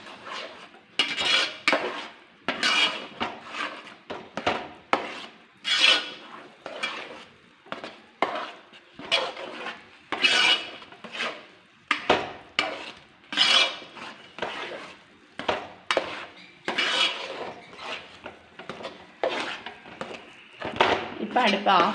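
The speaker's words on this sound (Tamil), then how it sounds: "கை விடாமல் கிளறிட்டே இருக்கணும்" Rava upma stirred steadily in a pan, a rapid run of scraping, clinking strokes of a metal spoon against the pan, close and fairly loud, with no talk.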